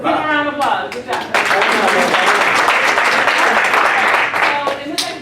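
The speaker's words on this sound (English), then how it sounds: "Give him a round of applause." Workshop participants at a student leadership academy session give a short, dense burst of clapping that follows a brief spoken voice and fades after a few seconds.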